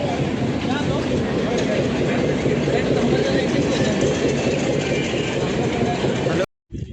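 A small toy train on Elephanta Island off Mumbai rumbles along steadily in a dense, continuous mechanical clatter, loud and close throughout, cutting off abruptly near the end.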